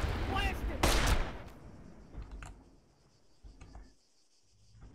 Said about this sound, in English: Explosions are going off.